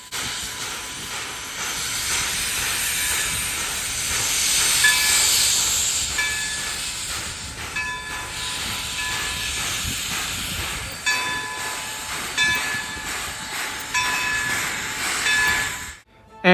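Steam locomotive number 26 stands at Steamtown, hissing steam in a continuous loud wash. Faint clanks and squeals of rolling stock sit under the hiss, which swells midway before falling off abruptly at the end.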